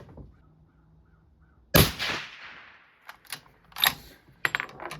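A single loud rifle shot from an Outlier rifle in 300 Norma Magnum, a sharp blast with a decaying echo, followed by a few fainter bangs and clanks.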